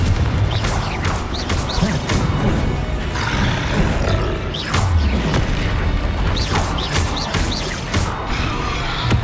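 A fiery Confringo spell blast from Hogwarts Legacy: loud, repeated roaring bursts and crashing impacts with whooshing flares, sounding close and aggressive throughout.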